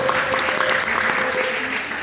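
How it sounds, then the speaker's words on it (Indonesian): A classroom full of students breaks into brisk, continuous applause that stays at an even, fairly loud level for the whole two seconds. "tepuk tangan dulu"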